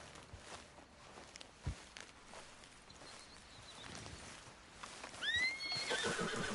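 A horse in a video game neighs sharply near the end after quiet hoof clip-clops and soft ambient noise, the whinny loud and close.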